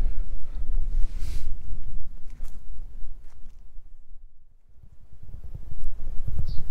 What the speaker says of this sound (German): Das ist hier doch recht pustig und kühl.